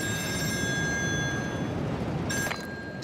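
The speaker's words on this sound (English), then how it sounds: "Oh, phone's ringing." Telephone ringing in the video game Still Wakes the Deep, set on an offshore oil rig: a steady electronic tone rings over a thick ambient rumble, with a brief louder burst near the end.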